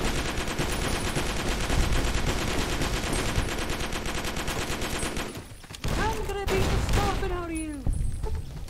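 Sustained automatic gunfire in a combat video game, a dense continuous burst of rapid shots for several seconds, then a short gap and further bursts with whining ricochet-like tones.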